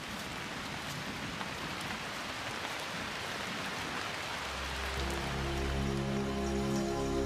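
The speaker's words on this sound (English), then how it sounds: "The monsoon is now well established along the west coast of South India, where the rains will continue until September" Monsoon rain pours along the west coast of South India in the Western Ghats, a dense, steady hiss of drops on foliage and ground, joined later by a low rumbling hum beneath the downpour.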